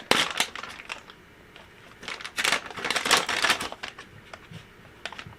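A plastic bag crinkles and rustles in irregular bursts, close by, as it is crumpled and handled while making soft fishing baits, with no talking.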